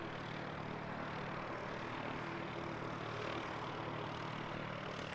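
An ATR turboprop aircraft at Christchurch Airport, a low steady engine drone with a faint propeller hum, distant and constant without talk.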